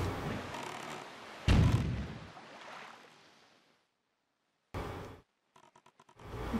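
In Zelda Wind Waker HD, a cannon fires out of a fortress doorway: one deep booming blast that rumbles and fades, then a few sharp clatters and thuds.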